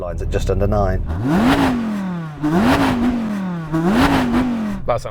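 An Audi RS6 GT engine revs hard into a soft limiter in fourth gear three times, its pitch climbing then stuttering and dropping in a choppy, bouncing pattern, loud and close.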